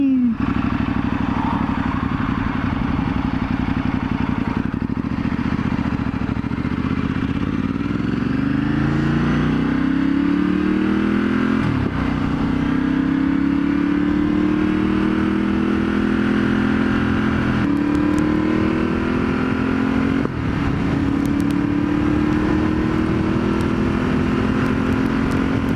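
A Multi motorcycle with a newly fitted exhaust idles nearby, then is revved hard in several rising, throaty pulls that climb in pitch and drop back, with someone briefly speaking over the engine.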